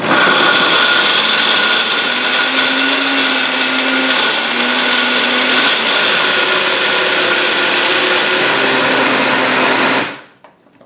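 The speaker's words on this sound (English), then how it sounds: "we're just going to blend this until smooth, I guess on a liquefier puree setting" A blender purees a raw cashew citrus cheesecake filling, its motor whirring loud and close in a continuous drone that shifts pitch slightly as the mixture churns, then cuts off abruptly near the end.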